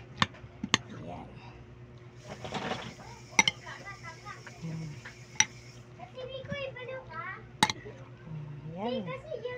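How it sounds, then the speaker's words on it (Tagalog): Kilawin is stirred in a bowl with a utensil, producing several sharp metallic clinks against dishes amid kitchen clatter, while people and someone talk nearby. "Hinalo ko na ang sarap nating kilawin."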